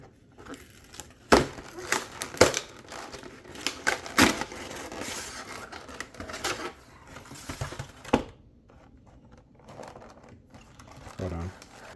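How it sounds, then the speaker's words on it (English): A big box of Pokemon trading cards being opened, with crinkling plastic packaging, tearing and sharp rustling bursts, close and irregular, mixed with a person talking. "I'm gonna open up this big box today of Pokemon cards"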